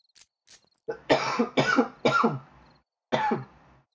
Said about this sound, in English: I also apologize for coughing so much.